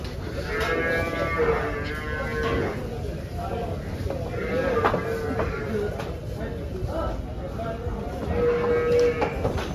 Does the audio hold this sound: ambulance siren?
no